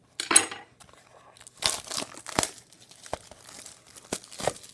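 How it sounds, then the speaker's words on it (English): Opening a 2016-17 Upper Deck Artifacts hockey card box and its packs, with close, intermittent bursts of crinkling, tearing foil wrappers and cardboard rustles separated by brief quiet pauses. "Now we'll get to opening the box."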